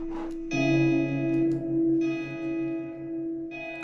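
Sustained synth chord in C sharp minor with an echo effect, struck three times with a short pause between, each ringing on and trailing into repeats; no talking over it.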